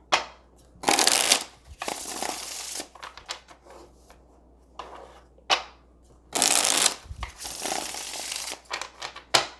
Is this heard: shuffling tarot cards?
yes